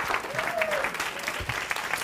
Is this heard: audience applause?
yes